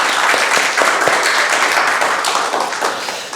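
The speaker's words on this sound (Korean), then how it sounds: "우리 하나님께 영광과 우리 모두에게 우리 감사의 박수 한번 해볼까요?" A church congregation claps together in the sanctuary, a loud, dense burst of applause that holds steady and then begins to thin and fade toward the end.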